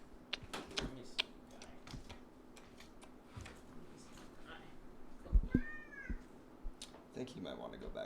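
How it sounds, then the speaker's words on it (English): Kiki the cat meows once in the middle, faint and a bit distant, over scattered keyboard typing and clicks, with people talking quietly. "Stefan's cat."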